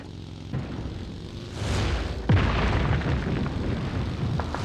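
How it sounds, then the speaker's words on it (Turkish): Red Zone bombardment in PUBG Mobile sets off a deep explosion with a sharp booming impact partway through, followed by rumbling blasts and debris, loud and close. "Red Zone ağzımda patladı ya."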